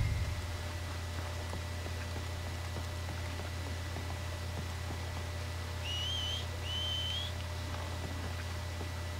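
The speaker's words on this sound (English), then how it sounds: "Make a noise, whistle or something." Two short, rising whistles in Red Dead Redemption 2 ring out one after the other near the end, clear against a quiet, steady low hum of game ambience.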